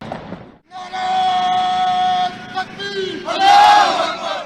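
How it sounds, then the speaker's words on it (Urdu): Soldiers chanting religious and patriotic slogans together at a Pakistan Day ceremony, loud sustained unison shouts in bursts, rising to a final swelling cry. "جوانوں نے نعرہ تکبیر، اللہ اکبر اور پاکستان زندہ باد کے فلک شگاف نعرے بھی لگائے"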